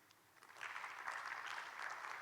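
Student audience at a university orientation session for international first-year students breaks into steady clapping that swells after a quiet start and keeps going evenly, fairly close and filling the room.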